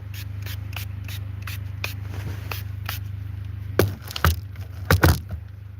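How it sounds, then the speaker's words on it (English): A scent spray misted onto a bed, several sharp hissing spritzes close by, clustered near the end over a steady low hum with faint rustling before. "Spray your bed. Because I like good smells."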